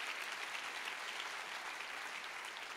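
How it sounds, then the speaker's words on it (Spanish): Dense, steady applause for the King of Kings from a church congregation, a continuous wash of many hands clapping at even loudness throughout, with no voices standing out. "Dale fuerte ese aplauso al Rey de Reyes y Señor de Señores."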